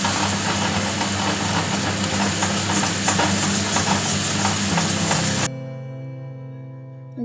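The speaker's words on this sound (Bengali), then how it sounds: "ভালো করে কষে নিচ্ছি।" Prawns with coriander stir-frying in a pan for a Bengali golda chingri kosha, giving a loud, dense, steady sizzle with scraping that cuts off abruptly near the end, leaving a faint hum.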